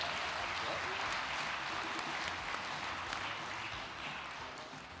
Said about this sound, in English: Big round of applause for Tim and Jasmine.